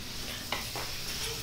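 Rice boils in a wok of chicken curry while a utensil stirs it, giving a steady bubbling hiss broken by two short scraping strokes, close and without talk.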